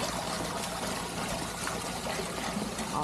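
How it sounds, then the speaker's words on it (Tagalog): Water bubbling and trickling outdoors on a gravel ride through the Sierra Madre: a steady, close wash of liquid noise that holds evenly throughout, with no voices. "Ayan mo, kumukulo-kulo yung tubig."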